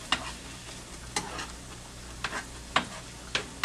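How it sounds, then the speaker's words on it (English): Onions frying in a pan with squash, a low steady sizzle broken by several sharp scraping stirs of a utensil at irregular intervals, close up and with no talking. "You want to put down your onions, get that onion flavor in it."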